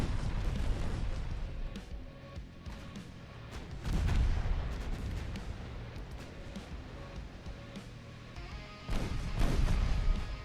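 Naval guns fire in Ultimate Admirals: Dreadnoughts, heavy booming salvos with the loudest bursts near four and nine seconds over a continuous rumbling battle din, with no talking.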